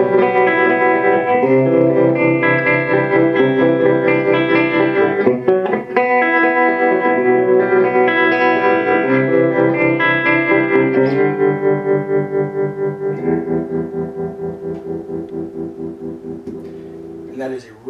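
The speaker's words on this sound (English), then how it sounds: "And that is a really, really good sounding tremolo circuit." Electric guitar played through a Megatone Masco MA25 amp with its built-in tremolo circuit on, chords and notes throbbing in a steady pulsing rhythm that becomes more pronounced as the playing thins and fades toward the end.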